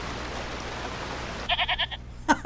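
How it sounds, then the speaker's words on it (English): A goat bleats in a No Rest for the Wicked trailer, a short wavering call of several pulses followed by a brief second bleat, over a faint rain-like hiss. "It's the GOAT."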